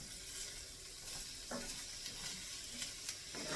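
Sliced beef Polar sausage sizzles in a pan with pineapple, a constant close frying hiss broken by a few soft stirring scrapes.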